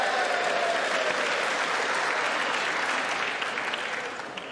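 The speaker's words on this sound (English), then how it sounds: "they clap" Audience applause in the chamber during a Joe Biden State of the Union address, sustained dense clapping heard at moderate distance, slowly tapering off toward the end.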